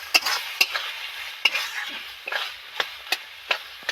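A banana-stem (thor) curry is stirred in a pan, a spoon scraping and clacking against the metal in sharp irregular strokes over a soft simmering sizzle, close and fairly quiet.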